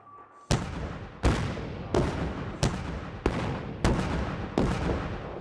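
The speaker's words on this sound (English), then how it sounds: "An overnight dump of snow has given me the chance to catch a real avalanche control operation on this highway in southern Colorado" Artillery fires for avalanche control above a snow-covered highway in southern Colorado: seven heavy booms about every 0.7 seconds, each with a long echoing rumble that trails into the next.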